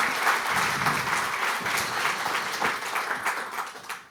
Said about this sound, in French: On peut applaudir bien fort Alexandra Laferrière.